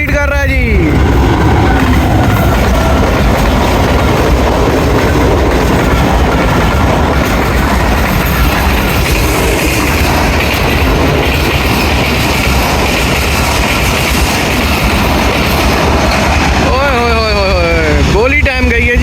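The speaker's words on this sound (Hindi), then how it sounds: "रावलपिंडी 8 डाउन तेज़गाम उड़ते हुए जा रही है जी" The Tezgam 8 Down express, led by a GU40 locomotive, thunders past at speed with a loud continuous roar and rattling wheels. Near the end a horn sounds as it goes by, and someone talks over it.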